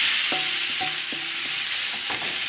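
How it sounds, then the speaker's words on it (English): Ground beef with fresh garlic, black pepper, green onions and salt frying for stuffed pepper filling, a loud dense sizzle crackling steadily up close, with faint rhythmic stirring knocks underneath. "I'm going to dump the ground beef in there."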